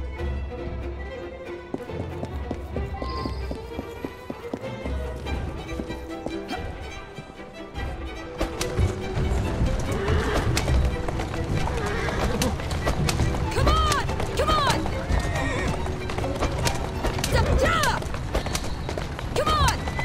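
Horse-drawn cart galloping in the video game Assassin's Creed Syndicate, rapid hoofbeats with neighs and whinnies over a game music score, growing louder partway through, with character voices talking.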